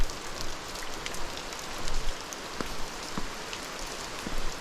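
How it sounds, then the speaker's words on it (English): Steady rain patters down on a surface by a cliffside, a dense hiss with scattered heavier drops, continuous and fairly close, with no voices. "because it is raining off the cliffside here"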